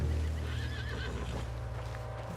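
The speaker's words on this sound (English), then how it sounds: "What's wrong with this horse?" A horse in Red Dead Redemption 2 lets out a whinnying neigh with a wavering tone, accompanied by low snorting and hoof clatter, moderately close and fairly quiet.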